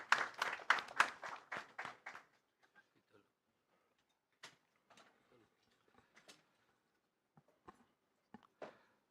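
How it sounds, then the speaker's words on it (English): An assembly hall audience at an international audit institutions' general assembly applauding a newly elected president: a short burst of clapping that fades within two seconds, followed by scattered faint taps and noises. "let's give it a round of applause to the new president of"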